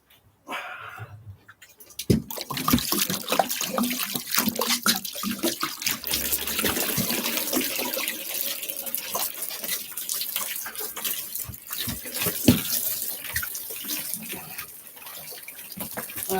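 Water poured from a plastic bottle, a continuous splashing trickle close by that runs steadily for most of the stretch after a short quiet start.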